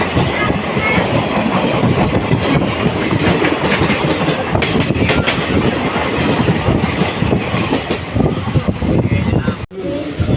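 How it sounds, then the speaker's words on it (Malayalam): A passenger train on the Ernakulam–Guruvayoor Express route rumbles steadily along the tracks, loud and close, with a continuous rhythmic clatter of wheels that briefly dips near the end. "ഷാലിമാറിൽ കൊച്ചുവേളി വരെ പോകുന്ന ട്രെയിനിൽ"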